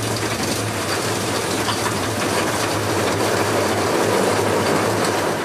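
A VR treadmill runs with a loud, constant mechanical roar and low hum, steady and broadband like a vacuum cleaner, with no talking.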